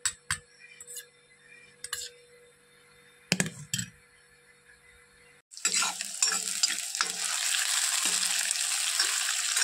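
Fish frying in oil in a pan: a few light clinks and stirring noises at first, then a loud, steady, close sizzle that begins about halfway through and continues to the end.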